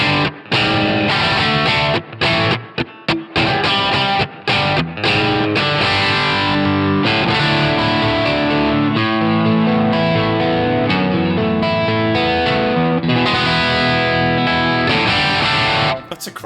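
Electric guitar played through the Overloud TH-U Twang Strat preset with reverb rings out in strummed chords and picked notes, bright and sustained, with brief pauses early on and a reverb tail at the end.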